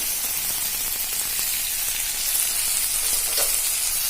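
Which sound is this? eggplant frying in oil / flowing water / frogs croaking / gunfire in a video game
eggplant frying in oil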